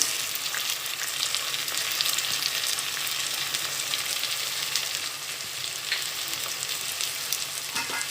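Ginger garlic paste and onion sizzle steadily as they are sautéed in hot oil for a vegetable pulao, a dense, continuous frying hiss that stays even and close throughout with no talking.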